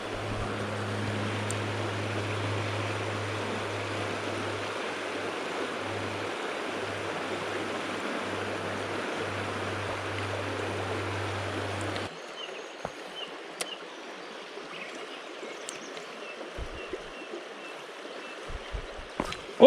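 River current rushing through the main flow of a trout stream, a steady broadband wash that is loud and close at first, then drops to a lighter, more open trickle with small splashes and knocks.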